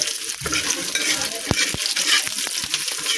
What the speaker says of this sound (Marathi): चांगला खरपूस भाजून घ्यायचा कांदा मसाल्याला.